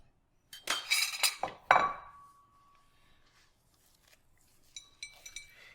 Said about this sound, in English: Now we're going to scoop the seeds out of the pumpkin.